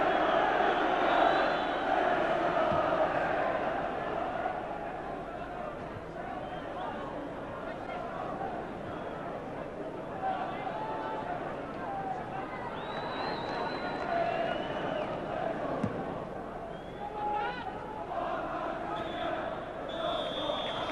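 Large football crowd at Manchester United's home ground during a match against Liverpool, a steady loud roar of massed voices with shouts and chants rising and falling throughout, dense and continuous.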